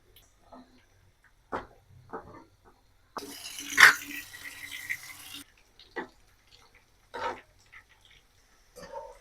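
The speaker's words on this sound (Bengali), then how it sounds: "তেলটা গরম হয়ে গেছে এখন একে একে চিকেন দিয়ে দিব" Chicken pakora pieces go into hot oil, bringing a sudden hiss of frying that lasts about two seconds. Quiet kitchen clatter and brief sounds come before and after it.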